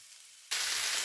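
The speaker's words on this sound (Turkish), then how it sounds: "Tekrar karıştırıyorum." Beet leaves and onion sizzle in a pan as they are stirred with salt, red pepper and black pepper: silence, then a sudden steady hiss of frying that runs to the end, with a light clink at the close.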